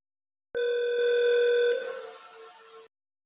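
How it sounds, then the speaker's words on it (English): Ringback tone from an outgoing call placed by a FreeSWITCH Lua script to a soft phone, a single steady electronic ring lasting about two seconds before tapering off, clear and alone with no talk. "the script will pause at the ringing because it's making a call to my soft phone"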